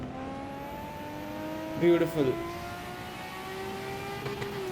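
A Nissan Skyline R34 GT-R engine hums steadily on the Nordschleife, then blips through quick downshifts before the engine note carries on. Someone speaks briefly over it.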